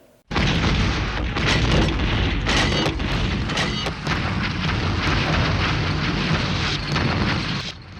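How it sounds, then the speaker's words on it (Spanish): Artillery and Katyusha rocket launcher bombardment at night, a dense continuous roar of booming blasts and rumbling detonations, loud and sustained from start to finish. "lanzaron un potente y devastador bombardeo de la artillería"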